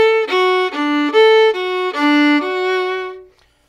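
Fiddle playing a phrase of Durang's Hornpipe, a lesson-style run of bowed notes with slurs, clear and close, ending on a held note that fades out; no talking.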